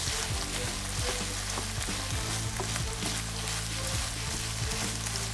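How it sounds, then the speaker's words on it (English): Cilantro cooks in a pan with a shrimp stuffing, giving a steady, close sizzle and frying crackle with occasional stirring scrapes, no voices. "I'm going to put some cilantro at the end again and cook it for another minute."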